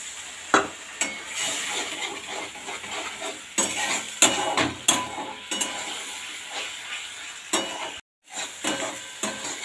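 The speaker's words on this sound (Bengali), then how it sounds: "ভালো করে আমি ওই আদার গন্ধটা যতক্ষণ না ছাড়ছে আমি ভালোভাবে কষিয়ে নেব" Ginger and chickpeas for ghugni curry are sautéed and stirred in a pan. A dense, close frying hiss runs throughout with irregular scraping strokes and utensil knocks, broken by one brief silence near the end.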